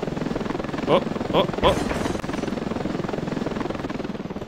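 Transport helicopter in the video game Ravenfield, its steady rotor chop filling the clip as it descends, with a voice briefly exclaiming over it.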